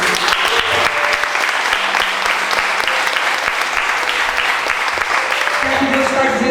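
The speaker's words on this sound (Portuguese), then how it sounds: "Aplauda ao Senhor Jesus" Church congregation applauding at a Sunday service, loud continuous clapping from a large crowd with a faint musical tone and some voices rising beneath toward the end.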